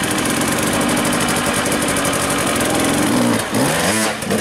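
A motorcycle engine runs steadily and loudly close by during an outdoor riding clinic, with a rougher surge near the end as it is revved. No talk is heard over it.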